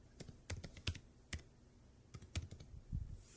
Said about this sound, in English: You can type anything whatever you want and press the enter